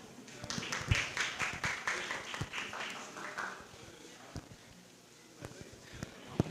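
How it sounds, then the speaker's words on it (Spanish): Applause welcoming a speaker at a press conference for journalists in Lambayeque: scattered, fairly quiet hand clapping from a small audience for a few seconds, fading out, followed by a few faint isolated taps and knocks. "Lo recibimos, por favor, con un aplauso."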